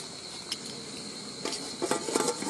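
Insects chirp steadily outdoors on a hillside at night, making a constant high-pitched drone under faint patter and a few soft clinks, with no voices.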